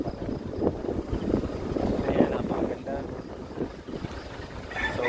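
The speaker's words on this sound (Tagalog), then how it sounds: "Pansin natin na medyo mahangin pa rin." Wind blows across an open outdoor spot, buffeting the microphone in a continuous low rumble and rushing noise, with people talking faintly underneath.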